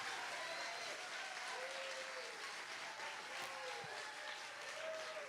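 An audience at a talk on kindness breaks into sustained applause. The clapping is dense and even, heard from within the hall at moderate distance, with faint voices mixed in.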